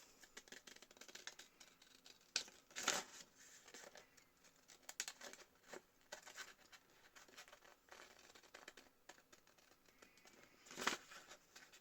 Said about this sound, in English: And then you just cut along the lines that you've made.